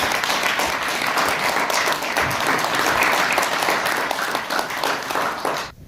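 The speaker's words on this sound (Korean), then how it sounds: "박수로 맞아주십시오" An audience at an award ceremony gives steady, sustained applause to welcome a university president to the podium, a dense wash of clapping that continues for several seconds before fading out.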